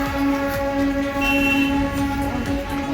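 A Darjeeling toy train passes close by on a hillside line, its horn sounding as a steady sustained tone over the loud rumble of the wheels for the whole three seconds, with no talk.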